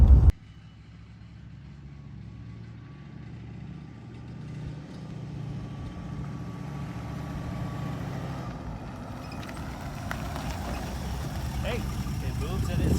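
A 1972 Ford Ranchero 500 engine runs steadily with a low rumble while loose items in the truck bed rattle, someone talking over the idle throughout.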